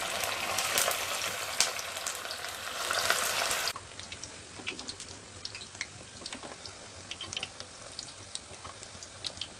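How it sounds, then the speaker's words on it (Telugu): Little millet vadas deep-frying in hot oil over a medium flame, a dense steady sizzle with scattered crackles and pops, louder at first and then settling into a quieter, continuous bubbling. "నూనె వేడైన తర్వాత తయారు చేసుకున్నటువంటి గారెలను వేసుకొని మీడియం ఫ్లేమ్లో గోల్డెన్ బ్రౌన్ కలర్ వచ్చేంత వరకు వేయించుకోవాలి"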